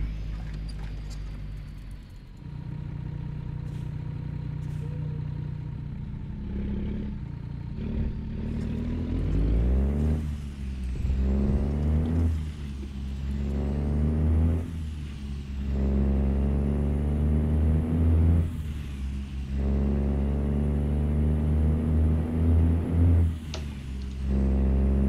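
A Cummins Signature 600 diesel engine pulls a truck through Alaska at night in American Truck Simulator. It drones low and loud, repeatedly revving up, dropping through gear shifts and climbing again, with occasional hisses on top.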